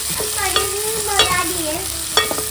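Tomatoes tossed into onions frying with chilli and salt in a home kitchen pan, a steady sizzle with a few stirring scrapes and clinks, close and alone without talk.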